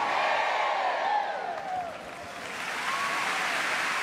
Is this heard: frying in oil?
no